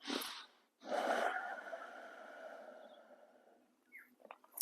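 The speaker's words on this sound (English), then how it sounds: "Deeper breathing." Deep breaths during a breathing exercise: a short sharp inhale, then a longer breath that fades away, close and quiet, with a small noise at the end.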